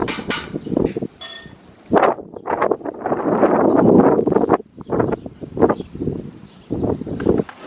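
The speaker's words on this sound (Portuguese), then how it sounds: "Eita, que ventania." Strong wind blowing outdoors at a home, roaring in loud gusts that rise and fall against the microphone, with rustling mixed in and a brief high tone early on; no one speaks.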